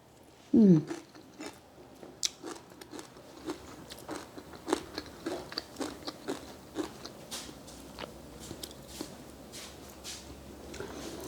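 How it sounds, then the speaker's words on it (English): Crunchy bites and chewing of sour Hmong pickled mustard greens: one loud crisp crunch at the start, then a steady run of close, moist chewing crunches with no talk over them. "It's sour, crunchy, and delicious."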